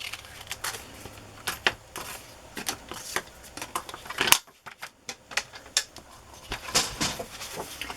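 Scissors snip through paper in a run of crisp, irregular close-up clicks, cutting a single word out of a sheet for homemade ephemera, with a brief pause midway.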